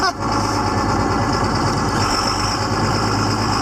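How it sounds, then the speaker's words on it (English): A noisy stack wagon engine runs loudly and steadily nearby, a constant rough idle-like rumble with no gaps throughout. "as noisy as this thing is, I'm thinking I'm going to do a engine overhaul on this"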